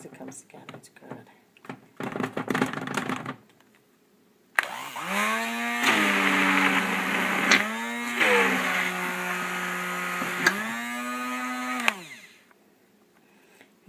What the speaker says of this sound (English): Make sure you turn the immersion blender off beforehand because it will come splattering everywhere if you don't.